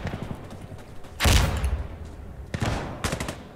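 Covering gunfire in the tactical shooter game Insurgency Sandstorm: a loud burst of rapid automatic shots, followed by scattered bursts and single cracks, standing alone without talk.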